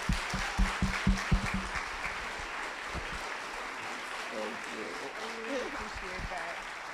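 Audience applause welcoming a speaker to the stage at a talk, a burst of sharp claps at the start that settles into steady, sustained clapping from a crowd, with voices and cheering mixed in.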